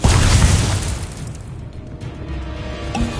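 Incendio fire spell cast in Hogwarts Legacy, a loud booming burst that flares at the start and then fades into a lingering crackling rumble, with no speech over it.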